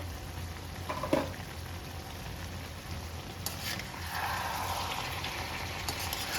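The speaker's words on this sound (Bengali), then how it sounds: "বেশ সুন্দর টকবক টকবক করে ফুটছে।" Hungarian beef goulash simmering in a pot gives off a soft, continuous bubbling with a light sizzle, faint and unbroken, with no voices.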